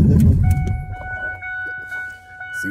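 A Ford F-150 pickup engine runs with its catalytic converters removed. A loud, deep exhaust rumble opens the clip, then settles into a quieter, steady idle with a few light clicks.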